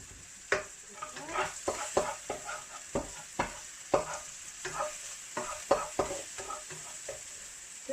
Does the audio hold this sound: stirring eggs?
yes